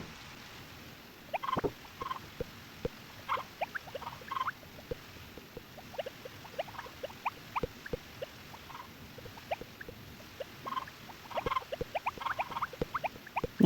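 Chickens cluck and peck in a coop in the Harvest Moon video game, with short scattered clucks and taps at moderate volume over a quiet rainy background and no talk.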